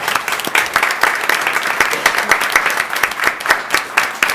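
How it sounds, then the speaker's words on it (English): Audience applause for two student board members at a regular Board of Education meeting, a steady burst of many hands clapping that fills the room at close range and holds throughout without fading. "I think you deserve a big applause."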